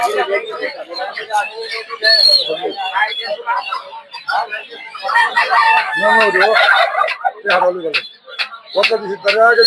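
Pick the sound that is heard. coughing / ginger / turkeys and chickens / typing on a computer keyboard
turkeys and chickens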